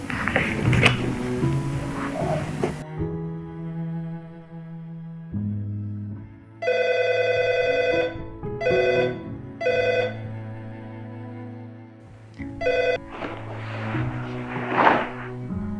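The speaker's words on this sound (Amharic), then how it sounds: "ለምን ስልክ አታነሳም?" A telephone rings in repeated bursts of bright electronic tones separated by short gaps, loud and close, over a low musical drone.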